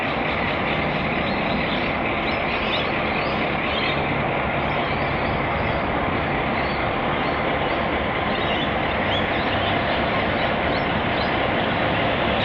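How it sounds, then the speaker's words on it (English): A diesel train shunts into Hurstbridge Yard with a loud, steady engine rumble and broadband rolling noise that hold evenly throughout, with no talking. "we see the train shunt into Hurstbridge Yard after the remaining passengers disembark"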